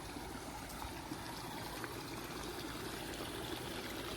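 Small stream flowing down from the Phi Pan Nam mountains past rice fields in Ngao district, Lampang, a steady, close, continuous trickle and burble of water with no talk.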